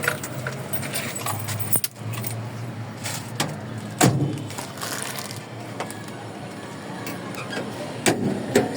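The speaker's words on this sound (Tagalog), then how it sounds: "Kunin ko lang yung ating susi" Car keys jangle and clink repeatedly in the hand as they are picked up, close and fairly loud, with a few sharper metallic clicks among the rattling.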